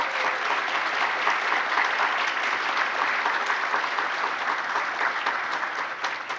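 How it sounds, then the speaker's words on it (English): An audience at the ICUR 2024 opening plenary session applauds the student researchers with sustained, dense clapping from a large crowd, steady and even, easing slightly toward the end. "can we have a round of applause for all our students?"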